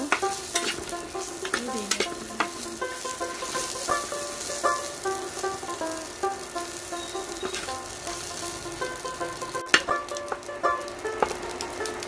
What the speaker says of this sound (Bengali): এরপর দিয়ে দিব শুকনা মরিচ আর কিছু কাঁচা মরিচ এড করবো। এইগুলো নাড়াচাড়া করবো।